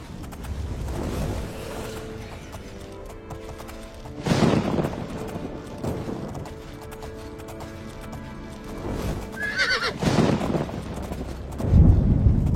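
A horse in a video game gallops with heavy hoofbeats and lets out snorts and a neigh after a bear attack, loud bursts rising over rumbling ambience, with no talking.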